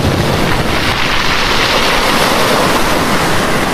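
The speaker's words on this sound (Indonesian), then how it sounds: "hanya suara air yang bergelombang" Steady broadband rush of sea waves and surging water, loud and continuous with no breaks, set under a story of a prophet jumping into the sea.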